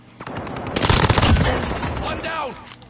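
Video game gunfire erupts in rapid automatic bursts, loud and close, with a brief quieter lead-in and ringing tail at the end.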